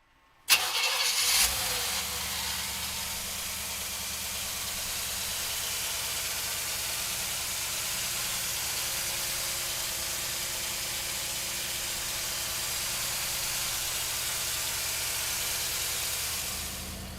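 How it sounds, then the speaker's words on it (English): A 1957 Chevrolet Bel Air engine cranks briefly and catches with a sharp start, then settles into a steady, even idle that runs for about fifteen seconds before fading slightly at the end. "come on up and we'll fire it up for you right now"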